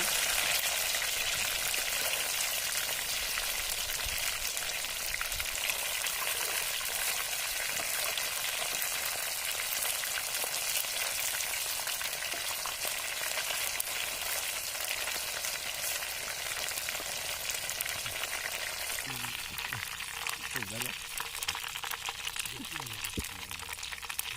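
Fish frying in a clay pot in a village kitchen gives a steady, loud sizzle and crackle of hot oil that runs the whole time, with a few stirring clinks near the end.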